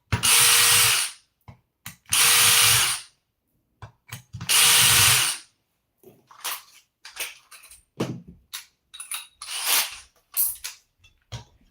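A powered driver or ratchet tool loosens bolts on the chassis of an Arrma Limitless 8s RC car. There are three long buzzing runs, then shorter clicking and ratcheting bursts, all close by.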